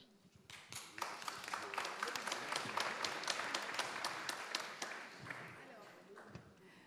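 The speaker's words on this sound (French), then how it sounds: "Clodo a applaudi chaleureusement." Warm applause from the audience at a round-table discussion on policy and industrial ecology, a dense steady patter of many hands building quickly and fading near the end, with voices underneath.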